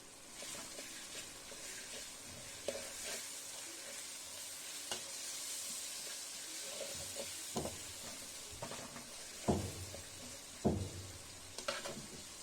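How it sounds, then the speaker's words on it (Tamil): Onion and tomato sautéing in a pan for masala pasta, a soft steady sizzle with intermittent scraping stirs and clinks, quiet and close with no talking. "தக்காளி போட்டு தக்காளியும் நல்லா வதங்கட்டும்."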